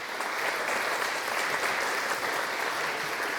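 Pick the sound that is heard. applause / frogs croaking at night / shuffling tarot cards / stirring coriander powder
applause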